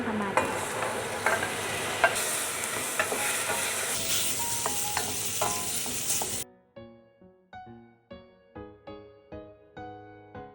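Garlic, onion and ginger sauté in a pot for salmon-head sinigang, a loud, busy sizzle with stirring for about six seconds. Then the frying drops away and a string of sparse, separate knocks and taps follows.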